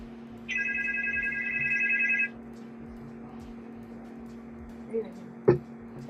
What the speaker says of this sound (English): That might be a phone call now.